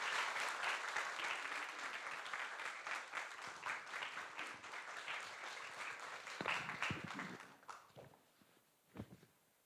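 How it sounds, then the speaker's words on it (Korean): A church congregation applauding to welcome a missionary, warm many-handed clapping that swells at first, then thins into scattered claps and fades out. "우리 선교사님 박수로 환영하겠습니다"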